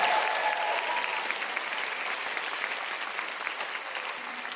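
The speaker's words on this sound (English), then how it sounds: "Big round of applause for Ed" A live comedy audience in Cardiff breaks into a round of applause, with dense clapping that is loud at first and then holds steady, fading only slightly over several seconds.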